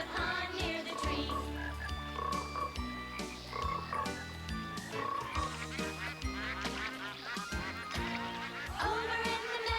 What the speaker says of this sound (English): Croak said the mother, croak said the three